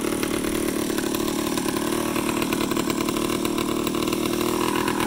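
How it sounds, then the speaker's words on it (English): A 1985 Honda Gyro S three-wheeler's small engine idles close by, a steady, loud buzzing putter that slowly settles as it idles down, with no voices. "You hear it now kind of starting to idle down."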